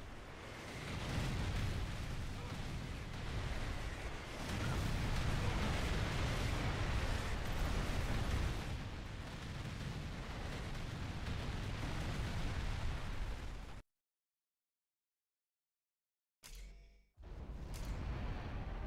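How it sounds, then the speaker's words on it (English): Nuclear cluster ICBM launch in a video game: a loud, sustained roaring rumble that swells and holds for about fourteen seconds, cuts to silence, then resumes briefly. "Nuclear missile launched."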